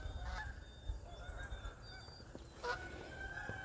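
Several geese honking at a distance over a farm in fall, scattered calls overlapping over low outdoor background noise.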